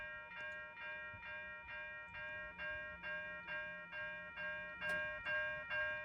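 Mechanical railroad crossing bell in a video game rings in a steady, even rhythm, roughly two strikes per second, each a bright metallic ding, heard alone and at moderate level.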